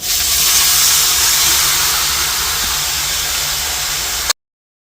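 Chicken is sautéed in hot oil in a pan, making a loud, steady, hissing sizzle close up that cuts off abruptly.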